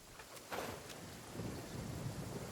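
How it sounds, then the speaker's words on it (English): Thunder from a lightning strike in the game Genshin Impact rumbles low and steady, swelling partway through with a broad wash of rain-like noise and no talk. "the lightning strikes"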